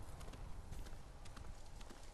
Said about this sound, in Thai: ป้าขึ้นม้าใช่ไหม